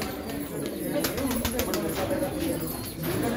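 Pigeons coo softly at a breeding farm in Hyderabad, low repeated murmuring calls under a steady background hum, with someone talking over them.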